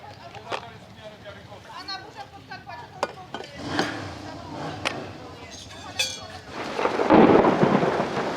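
Thunder rumbles low and deep at a motorcycle rally campsite, building into a heavy roll near the end, with rain and scattered clinks and knocks of packing up around it.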